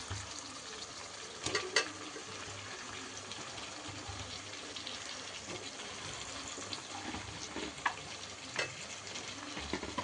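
Onion masala frying in a pan for chicken gravy, a faint steady sizzle with a few light stirring clinks and no talking.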